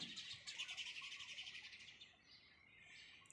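A bird chirps in a rapid, repeated trill near fruit and vegetable plants outdoors, faint and thin, then fades after about two seconds.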